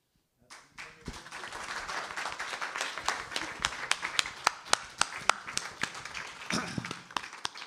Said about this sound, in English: Can we have like one more big round of applause for Paloma Barhaugh-Bordas and Mike Curato?